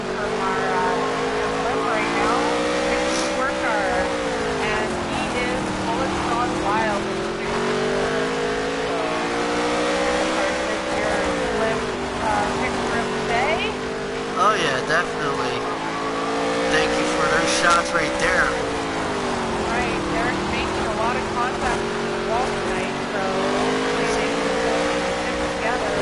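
Dirt late model race cars racing on a dirt track in an extreme late model tour, a continuous loud pack of engines with slowly rising and falling pitch sweeps, heard under steady excited commentary.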